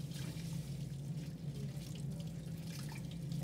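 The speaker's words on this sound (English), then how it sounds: "Once I'm done, I'm going to rinse my hands" A sink faucet runs steadily as hands are rinsed under it in a clinical hand-washing routine, a continuous, close, even rush of water with no talk.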